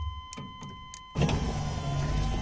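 A few light clicks and taps come first, then a newly installed power window motor on an Infiniti G20 whirs into steady motion and keeps running, close and clear with no talking.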